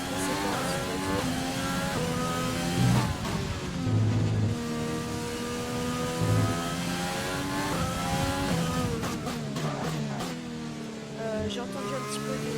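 A Formula 1 race car engine in the F1 2020 video game revs loudly and continuously, rising and falling through gear changes with occasional brief wheel lock-ups, while someone talks over it throughout.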